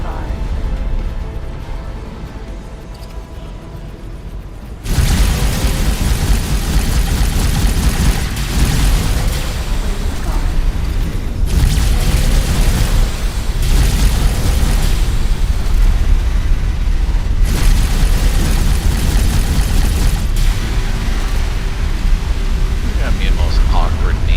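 Explosions and booming weapon fire from capital ships in the space game X4: Foundations, a dense continuous roar of blasts with someone talking over it throughout.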